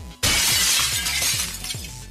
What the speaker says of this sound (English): I can smash the glass open with my hammer!